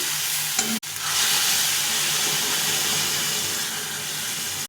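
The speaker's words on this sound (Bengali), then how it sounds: "এই কাঁচা পাকা টমেটোটা কষানো হয়ে গেছে, এখন জল দিয়ে দেবো।" Water poured into a pan of hot fried tomato with ginger, cumin and chili paste sets off a sudden loud, steady sizzling hiss that fills the rest of the moment, close and without talk.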